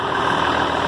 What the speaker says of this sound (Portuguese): o trator é um 7500 SLC John Deere, tá sem escapamento quebrou.